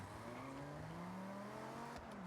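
A car engine in the Forza racing video game revs steadily with a rising pitch, faint and alone, then breaks into a brief tire squeal near the end.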